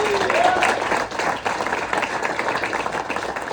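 Another round of audience applause rises for Tanner after his talk at a SkiRun event, full and sustained clapping from a crowd with a faint voice briefly over it.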